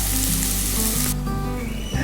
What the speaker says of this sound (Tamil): நம்ம மிக்ஸ் பண்ணி வச்சுருக்க சிக்கனை ஆட் பண்ணிக்கலாம்